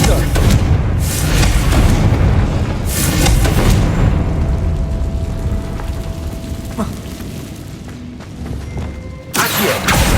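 Confringo fire spell in Hogwarts Legacy, loud blasting booms early on that fade into a rumbling tail, then another sharp burst near the end amid continuous game effects.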